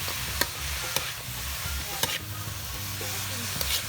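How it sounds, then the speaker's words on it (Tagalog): Karupdop mushrooms sizzle steadily in a pan while being stirred, with a continuous crackling fry and several sharp scrapes of the utensil against the pan at intervals. "Ilalagay natin yung karupdok at halu-aluin. Halu-aluin hanggang sa mag-isa na silang lahat."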